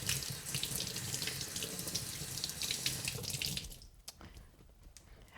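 Steady running water from a kitchen faucet pours over produce being rinsed clean in a sink, loud and continuous, then cutting off near the end, leaving a few faint drips and small handling sounds.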